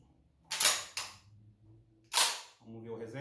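Two sharp mechanical clacks close together, then another after a pause, crisp and near, from a Mossberg 930 JM Pro shotgun trigger being dry-fired, followed by a low voice starting to speak.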